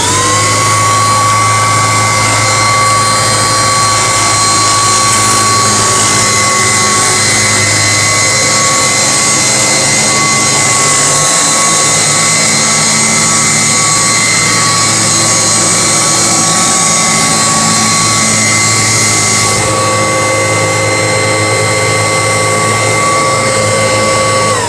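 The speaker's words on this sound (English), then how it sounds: "But here's Keza's reaction to the vacuum." A steady, loud motorized whine from a 50-year-old Kirby vacuum cleaner with a constant high-pitched tone drones on without pause, with no voices, shifting slightly in tone near the end.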